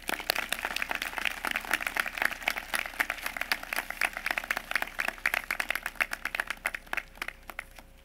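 An audience applauds steadily to welcome the class of 2021 speaker at a high school recognition ceremony, dense continuous clapping throughout, fairly loud with no voices over it.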